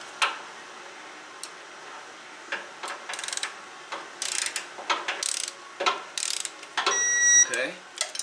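A torque wrench clicks and ratchets while tightening bolts on the engine of a 2017 Ford Expedition, giving close, irregular bursts of metallic ratcheting over a quiet workshop background, with a louder run near the end.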